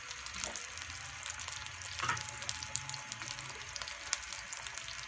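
Potatoes with powdered spices fry in a pan, a steady close sizzle with occasional crackles and stirring scrapes, no voices over it.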